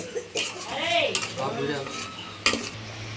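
Thinly cut omelette pieces go into a curry pot and get stirred, a spoon scraping and clinking against the metal vessel with a couple of sharp knocks, while someone talks over it.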